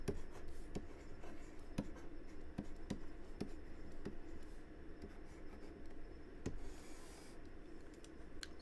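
Pen or marker scratching steadily across a writing surface while working out a node voltage equation, with soft continuous rubbing strokes and occasional sharper taps, close and fairly quiet, no talking.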